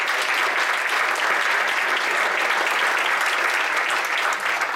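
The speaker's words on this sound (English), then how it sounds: "How about one more round of applause?" Sustained applause from a crowd, steady and dense clapping filling the whole stretch without a break.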